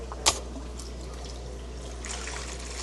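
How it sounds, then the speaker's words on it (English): Water siphoned from an aquarium through a hose into a bucket, a steady soft trickle and splash running throughout, with a sharp brief knock near the start. "I'm gonna go ahead and just siphon some of this water out into the bucket."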